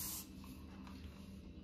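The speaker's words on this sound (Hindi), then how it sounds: "देन स्प्रे करेंगे" Hairspray misted onto a back-combed section of hair during a front hairstyle, one short burst of aerosol hiss up close that cuts off within a quarter second, leaving faint room noise.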